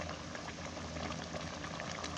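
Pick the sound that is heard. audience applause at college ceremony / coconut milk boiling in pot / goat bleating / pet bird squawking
coconut milk boiling in pot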